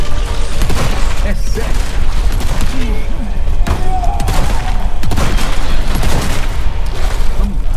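Gunfire in the Resident Evil 4 Remake video game, loud repeated shots and impacts over busy game sounds and music, with excited voices talking throughout.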